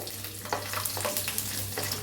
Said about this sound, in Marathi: असं लसूण पुरा सोललेला नाही आपण, ह्याला बी तळून घेऊया तेलात